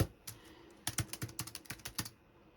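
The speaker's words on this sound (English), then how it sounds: "Oh, I'm typing, and this thing is woken up." Keys tapping on a Bluetooth computer keyboard, about a dozen crisp clicks in an irregular burst, close and clear with no voices.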